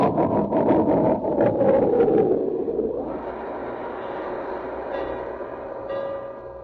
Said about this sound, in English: Chug Chug put on all of his brakes.